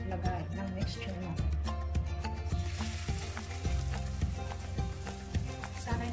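A zucchini, carrot and tuna omelette mixture hits a hot pan and fries with a bright, close sizzle, while a repeating musical backing runs underneath throughout.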